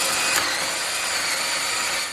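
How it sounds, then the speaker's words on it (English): A power drill pre-drilling a hole for a carriage bolt while building a workbench, a steady close whirring drone running for about two seconds and cutting off at the end. "I'm going to pre-drill a hole to put in my carriage bolt."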